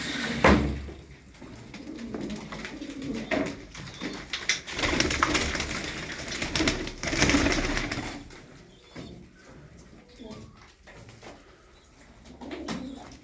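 Pigeons coo repeatedly nearby, soft throaty calls rising and fading, with occasional wing flutters in between.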